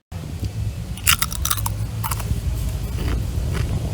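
Crunchy stone-ground corn nacho chips being bitten and chewed up close, a few sharp crisp bites followed by softer crunching over a steady low background hum.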